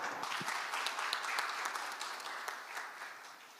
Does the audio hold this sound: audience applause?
yes